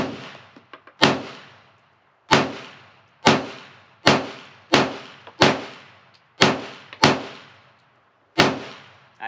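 Eight sharp, loud pistol shots from a Smith & Wesson M&P 2.0 Spec Series with an upgraded trigger, fired at an even, fairly quick pace, each crack trailing a short echo.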